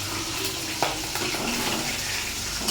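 Small tengra fish fry in oil in a pan, with a soft, steady sizzle and a few faint clinks close by.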